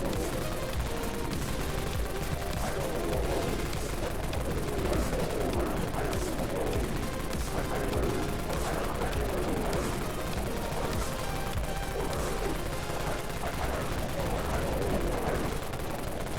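Shotgun fire in the zombie game Dead Frontier, with dense, continuous blasts and impacts blurring into a loud, unbroken barrage throughout.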